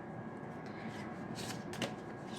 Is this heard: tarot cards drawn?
yes